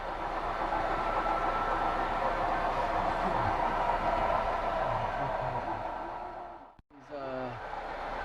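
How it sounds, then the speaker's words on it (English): Small model train rumbling steadily along its track at an indoor train show in North Haledon, New Jersey, a continuous mid-level clatter with voices of the crowd and a nearby speaker underneath, cutting off abruptly near the end before a short resumption. "The train is stopping."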